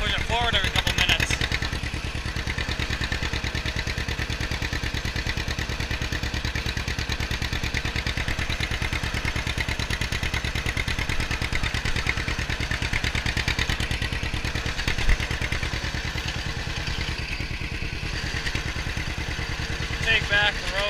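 A 1954 John Deere Model 60 tractor engine runs steadily and loudly throughout with a constant low chugging, close by, while someone talks over it.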